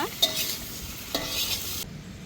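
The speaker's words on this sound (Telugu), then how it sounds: "అల్లం వెల్లుల్లిపాయలు చక్కగా కరిగేసుకున్నారు ఫ్రై కూడా వేసేసుకుంటున్నారు ఫైవ్ మినిట్స్ ఫ్రై చేసుకోవాలండి" Ginger-garlic paste and dried fish fry in a pan, giving a steady close sizzle with two sharp stirring scrapes, then the sound drops to a quieter hiss near the end, with no talk.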